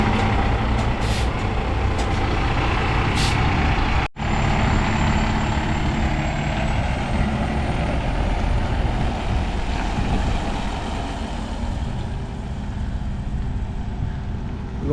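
A pickup truck's engine running steadily with a loud, continuous rumble throughout, plus a brief hiss or release sound near the start; no distinct cranking bursts stand out.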